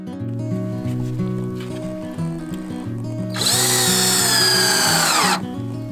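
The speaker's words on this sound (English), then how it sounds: "connect the end pieces first using an exterior deck screw and a hand drill" A hand drill whirs loudly, driving an exterior deck screw into cedar with a rising whine near the end, preceded by rhythmic background music.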